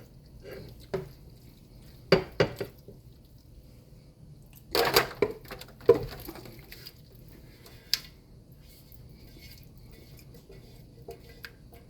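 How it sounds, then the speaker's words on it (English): Seasoned ground meat drops into a pan with a few soft, wet thuds and scrapes, spaced irregularly over a quiet kitchen background with a clatter or two of utensils. "I'm gonna get the meat in the pan."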